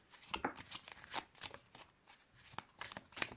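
Tarot cards are shuffled close up in a series of quick papery riffles and soft slaps, irregular bursts spread over a few seconds at moderate volume.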